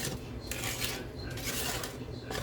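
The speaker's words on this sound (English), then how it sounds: "For those that haven't made fudge before, it's a lot of stirring." A spoon scrapes and clinks against a pot while melted fudge is stirred on the stove, a soft, steady rhythm of metallic rubbing at low volume.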